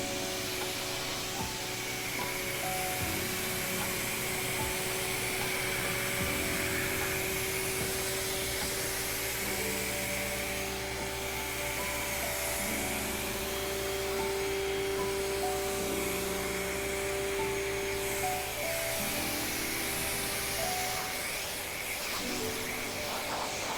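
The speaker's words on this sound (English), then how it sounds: "It's done its thing, so let's go ahead and rinse the vehicle." A pressure washer rinses Aquafoam off a car after a foam wash, giving a steady loud hiss of spraying water with a continuous motor drone that runs unbroken for the whole stretch, no voices over it.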